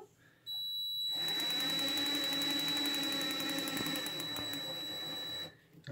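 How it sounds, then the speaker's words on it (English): Rapid ignition sparks firing across an old spark plug, driven by a GM HEI module with a Chrysler distributor at low RPM, giving a loud, steady buzzing crackle with a high electronic whine that runs continuously for several seconds. "So you'll notice even at a really low RPM, you get a lot of spark."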